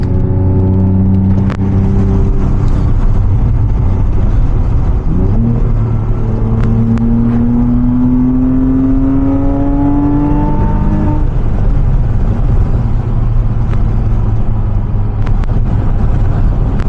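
A 2006 Porsche Cayman S with a six-speed manual drives with a steady engine drone, then climbs through a long rising acceleration run. The pitch sweeps upward before a shift and the note settles back near the end, with no talk.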